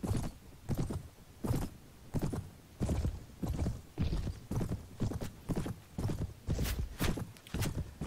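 Horse hooves clip-clopping in the Mount & Blade game as a horse is struck, a string of sharp, evenly spaced thuds with short pauses between them, close and fairly loud, with no talk over them.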